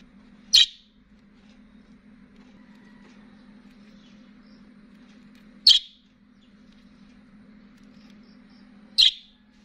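Three sharp, high chirps from lovebird parakeets ring out several seconds apart over a faint low hum, close and loud against otherwise quiet surroundings.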